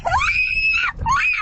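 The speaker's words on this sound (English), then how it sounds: "The victim's wife screaming from the passenger seat." From a car's passenger seat, a woman screams in two long, loud, shrill cries, with a short gap between them and low road rumble underneath.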